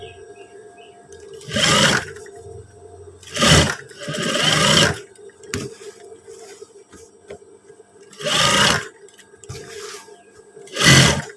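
A sewing machine stitching trousers runs in four or five short bursts of rapid whirring, close by, with quieter pauses between them.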